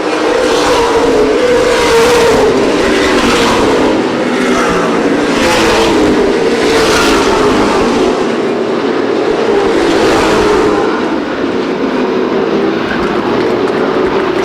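Late model stock cars in a CRA Late Model Sportsman race at Winchester Speedway roar past continuously, engines droning loud and steady with repeated swells as cars pass close by, no talk over them.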